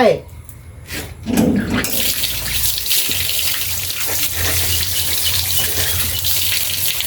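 Running water splashes steadily as a dog is washed during a bath, a continuous close gush with brief bursts and faint spoken voice under it.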